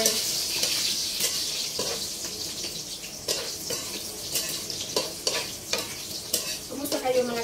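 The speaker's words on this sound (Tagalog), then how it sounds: "niluluto na natin ang ating chicken popcorn" Round chicken popcorn pieces fry in oil while a utensil stirs them through the pan, producing a constant close sizzle punctuated by repeated scraping and clattering strokes.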